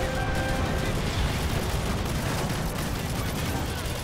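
Gunfire in Call of Duty: Modern Warfare 3, a dense, continuous barrage of rapid shots filling the whole stretch at steady loud level, with no voices over it.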